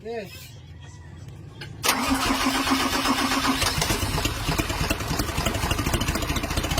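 A Mitsubishi Fighter truck's 6M60 diesel engine, suffering low power, cranks briefly, then catches and settles into a loud, rough, rattling idle that runs on steadily, with a voice speaking at the start.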